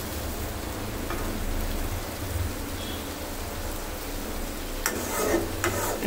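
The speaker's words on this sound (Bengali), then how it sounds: "এখন সামান্য হালকা হাতে একটু এভাবে গুলিয়ে দিলেই হবে" A steady, dense sizzle of loitta fish curry cooking in a pan, with soft scraping and a few clinks of stirring near the end.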